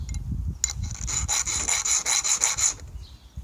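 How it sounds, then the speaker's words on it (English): A small chainsaw's chain is sharpened with a hand file, a run of about ten quick rhythmic rasping strokes close up, following low handling bumps. "I'm going to show you how to sharp my little chainsaw"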